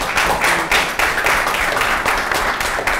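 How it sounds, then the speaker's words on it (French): An audience at a university talk in a Francophone setting claps steadily and loudly for a journalism teacher, a dense continuous patter of hands with no voices over it. "Je vous demande de l'applaudir très, très, très, très fort."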